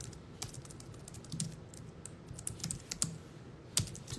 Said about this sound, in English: I'll need to type something.